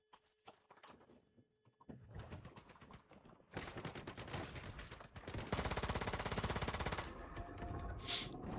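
Rapid automatic gunfire in the survival shooter game Once Human, bursts of shots starting quiet and swelling into loud, sustained rattling volleys with a sharp crack near the end.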